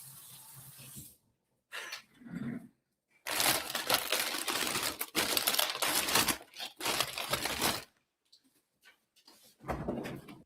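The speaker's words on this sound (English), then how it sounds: "All of that scrunching, that's all takeaway bags." Takeout bags being scrunched and crinkled in bursts of crackling paper and plastic, close and fairly loud, with short pauses between handfuls.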